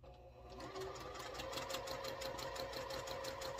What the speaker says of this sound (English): just stitch a line directly on the line that you drew or folded